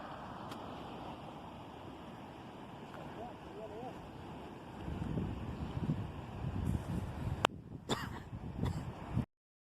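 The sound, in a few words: river flowing near Mount Morris Dam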